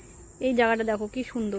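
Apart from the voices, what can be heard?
crickets chirping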